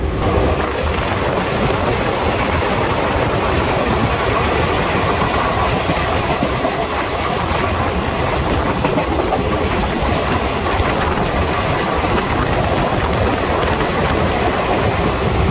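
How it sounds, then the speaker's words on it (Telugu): A train rumbles steadily along the rails through the Thar Desert between Jodhpur and Jaisalmer, swaying hard, with a continuous loud roar and faint rhythmic clatter throughout, no voices. "సో ట్రైన్ అయితే ఫుల్ ఊపుతుంది, మామూలుగా ఊపట్లేదు"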